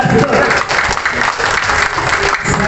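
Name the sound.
audience applause for Komdas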